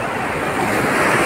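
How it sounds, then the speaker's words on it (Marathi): Surf washing onto Baga Beach, a dense, steady roar of breaking water mixed with wind buffeting the microphone, loud and continuous over a short stretch. "लाट आली लाट आली"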